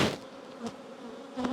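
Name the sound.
honey bees buzzing during hive colony inspection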